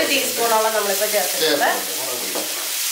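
Egg bhurji frying in a pan with Kashmiri chili just added, a steady close sizzle with light stirring throughout, no voices.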